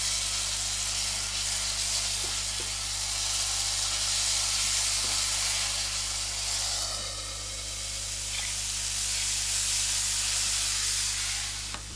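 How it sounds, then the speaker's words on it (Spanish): Tomato sauce with a splash of aged vinegar sizzles in a pan, a steady, bright frying hiss running unbroken alongside a low constant hum. "Echamos un chorrito de vinagre añejo y dejamos sofreír."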